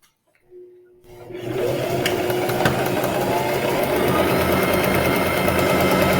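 A sewing machine stitches quilt triangles together for half-square triangle blocks, starting after a brief quiet moment and then running steadily and loudly with a continuous mechanical whir.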